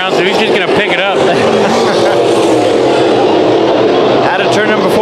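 Sport Modified race cars roar around the Bakersfield Speedway oval during a heat race, a loud, continuous engine drone with rising and falling revs as cars pass, while an announcer talks over the noise throughout.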